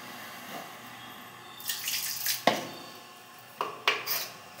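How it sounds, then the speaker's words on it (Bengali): Water runs faintly from a sink tap while hands are washed in a home kitchen during fish preparation, broken by a few sharp clinks of dishes close by. "হাতটা ধুয়ে নাও।"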